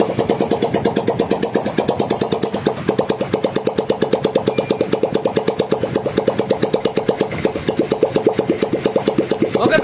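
A motorcycle engine freshly rebuilt in full after rough running idles steadily up close, its even rapid thumping beat continuing without a break and no voices over it.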